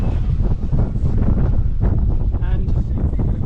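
Sailboat under sail on open water near Guadeloupe, with steady gusting wind buffeting the microphone and rushing water beneath; people talk over the noise.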